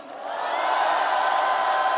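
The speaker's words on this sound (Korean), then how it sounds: "큰 함성과 뜨거운 박수 부탁드립니다" A crowd at a Gwangju political rally cheering and applauding, a roar that swells within the first half-second and then holds steady and loud.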